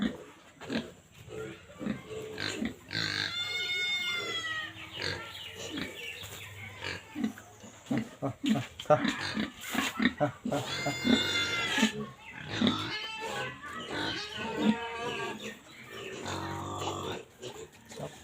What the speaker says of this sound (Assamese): মোৰ গাহৰিসমূহক এই পাতসমূহ খাবলৈ কেনেকুৱাকৈ খায় আপোনালোকে চাব